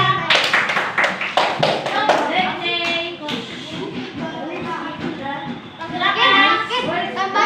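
Fourth-grade primary school classroom where children clap for a classmate in a quick burst of sharp, uneven hand claps, then a teacher speaks over shuffling and scattered taps, with claps returning near the end.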